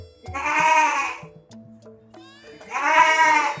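A person imitates a baby goat with two drawn-out, wavering bleats, close and loud, separated by a brief pause with low murmuring between them.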